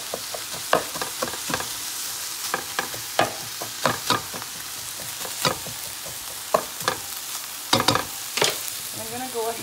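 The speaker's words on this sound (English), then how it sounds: "So back in here, we've got this pork cooking." Pork frying in a pan while being stirred, a steady close sizzle punctuated by repeated sharp scraping strokes of a utensil against the pan in an irregular rhythm.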